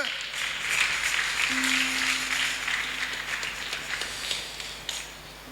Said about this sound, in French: Une acclamation pour notre Dieu.